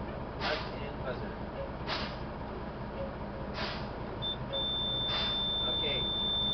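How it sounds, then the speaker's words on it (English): A truck's low air pressure warning buzzer sounds during an air brake test as the brakes are fanned down, a steady high tone starting late and holding under background noise and brief talk. "My low air warning."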